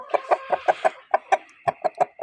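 A large, healthy Karis breed rooster weighing over 4.5 kg clucks repeatedly, about a dozen short, loud, close calls in a steady rhythm with no other sound.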